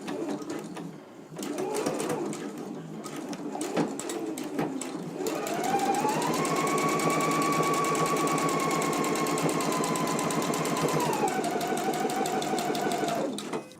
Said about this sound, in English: now we can go to the sewing machine and we can stitch at a 5/8 of an inch seam allowance